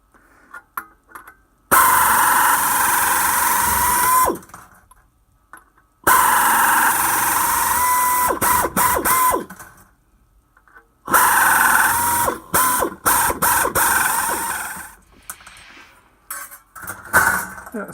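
Aldi Workzone air shears cutting sheet metal in loud, sustained pneumatic bursts, a harsh metallic chatter broken by sudden silences and short clicks as the cutting stops and restarts.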